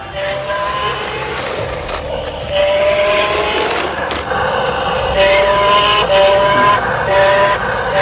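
A remote control robot car runs at full speed, its high whining motor and tire noise loud and steady with rising, siren-like tonal sweeps throughout, no voices.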